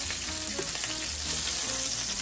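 Chicken pan-searing in hot grapeseed oil, a dense, steady crackling sizzle heard up close with no one speaking.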